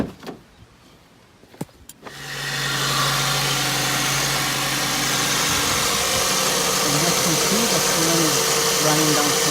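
After a few clicks and a quiet pause, a 2003 Ford Focus 2.0 L engine starts and idles steadily close by, a continuous even hum, with someone speaking over it.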